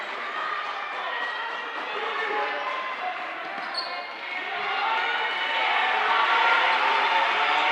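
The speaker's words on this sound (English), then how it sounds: "a rather boisterous crowd here at York Suburban" A boisterous crowd fills a high school basketball gym at York Suburban, a steady roar of voices and cheering with a ball bouncing on the court, under a commentator's voice.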